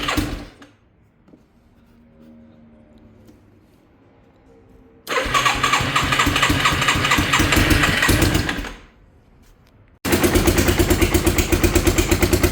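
Quad ATV engine with a 45 pilot jet starting and running rough on choke, cranking faintly first, then catching into a loud, steady, uneven idle that drops off briefly before roaring back up.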